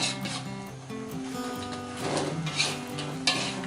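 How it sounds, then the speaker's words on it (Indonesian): A spoon stirs sauce into crispy fried tofu, giving soft scraping and clinking against the pan under steady background music. "Aduk sampai kecampur rata"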